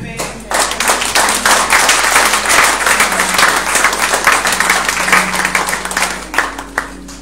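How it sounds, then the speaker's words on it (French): A church congregation applauds and cheers after a call to acclaim, with dense sustained clapping and crowd noise that swells quickly, holds steady for several seconds and then tapers off. "Tu peux acclamer."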